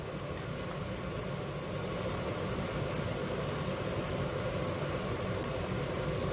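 Salmon fillets cook in a hot pan with a steady, even sizzle and crackle that continues unbroken throughout, with no talking over it.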